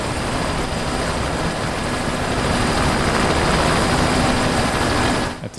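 A helicopter engine in the video game Microsoft Flight Simulator 2024 drones steadily with a constant whine and rotor hum, loud and even throughout before cutting off at the very end.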